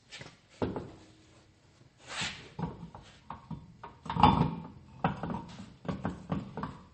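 A car tire is lifted and slid back onto its lug bolts, giving a series of irregular dull thumps, knocks and scrapes, close by and moderately quiet, with no voices.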